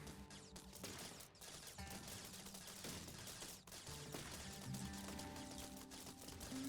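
Constant dense gunfire in the video game TerraTech mixes rapid bursts and explosions into a loud, continuous roar with music playing underneath.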